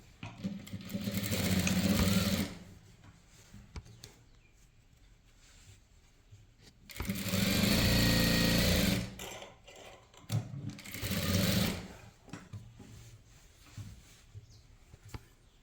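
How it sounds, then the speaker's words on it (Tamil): A sewing machine stitches a blouse in bursts: rapid, whirring runs of a few seconds each, separated by quieter pauses with faint mechanical clicks, heard close and without talk. "இப்போ தைச்சிடலாம்"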